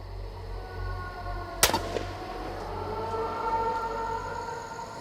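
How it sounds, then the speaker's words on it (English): A single sharp gunshot cracks out over a steady outdoor background hum, followed by a brief echoing tail. "Gunfire is a sound that no one takes any notice of anymore."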